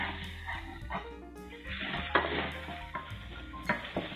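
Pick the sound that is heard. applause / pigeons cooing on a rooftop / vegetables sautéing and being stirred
vegetables sautéing and being stirred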